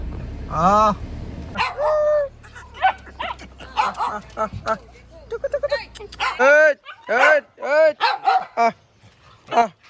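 Several dogs at a rural home bark, yip and whimper close by in an excited, irregular volley as they rush out to greet an arriving vehicle, whose low engine hum fades partway through, while people talk among them.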